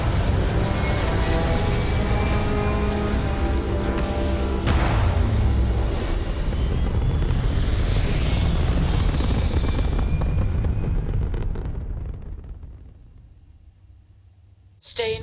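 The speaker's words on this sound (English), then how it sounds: "All thrusters firing." Spaceship thrusters fire in the Starfield video game, a loud, dense, continuous roar with rumbling lows that holds steady, then fades over the last few seconds before a brief final burst.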